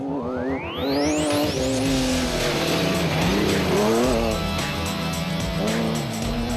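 Off-road racing trucks roar past during the 2010 Adenco 400 rally, engines screaming loud and close with rising, shifting revs and a sweeping pass-by whine over constant mechanical rumble.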